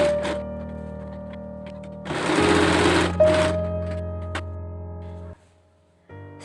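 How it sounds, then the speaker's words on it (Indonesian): A sewing machine runs in one short, loud, continuous burst while stitching a ruffled bed sheet, with quieter mechanical ticks before and after it stops. "kemudian Bunda akan jahit dulu"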